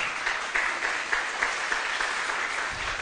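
Church congregation applauding loudly for the Lord during a sermon, a steady, dense wash of clapping that fills the whole stretch with a few cheers or voices mixed in.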